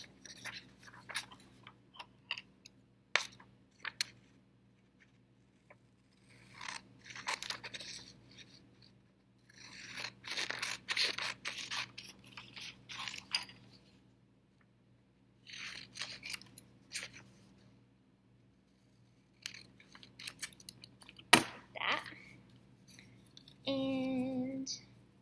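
Scissors snip through folded Star Wars paper craft pieces, close and quiet, in short bursts of cutting separated by pauses.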